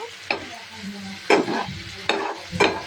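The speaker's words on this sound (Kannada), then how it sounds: "ನಮಗೆ ಈ ಗ್ರೇವಿ ಥಿಕ್ ಕನ್ಸಿಸ್ಟೆನ್ಸಿಯಲ್ಲಿ ಬರುವಾಗ ನಾವು ಚೆನ್ನಾಗಿ ಇದನ್ನು ಈ ಕಡೆ ಆ ಕಡೆ ಮಿಕ್ಸ್ ಮಾಡ್ಕೊಳ್ಳೋಣ" Egg masala gravy stirred in a pan, with four distinct scraping, sizzling strokes spaced about a second apart, close and fairly loud.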